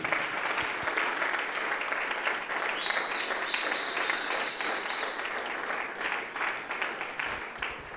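A church congregation applauds steadily and loudly for several seconds during a French-language sermon, with dense, even clapping and faint cheering mixed in.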